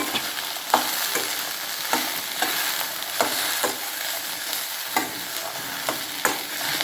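Okra stir-fried in oil on low heat, a continuous close sizzle broken by regular scraping stirs about once a second, with no voices.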